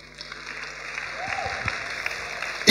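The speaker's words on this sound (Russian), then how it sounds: "Дайте им аплодисменты." An audience applauds at a talk, with light scattered clapping that builds gradually and swells sharply right at the end.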